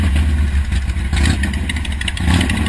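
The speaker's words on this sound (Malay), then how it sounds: "Tengah tunggang motosikal, tengah bergerak perlahan-lahan." A motorcycle moves slowly at night, its engine running with a steady, loud, close rumble and some rattling clatter, with no voices.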